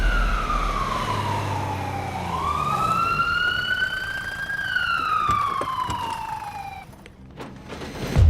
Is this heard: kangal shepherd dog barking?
no